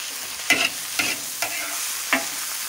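Food is stir-fried in a wok in a home kitchen in a Miao village, with four distinct scraping strokes of the spatula over a soft, steady sizzle.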